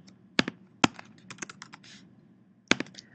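Keys clack on a computer keyboard in short bursts of quick presses with sharp louder strokes and pauses, close and fairly quiet in an otherwise still room.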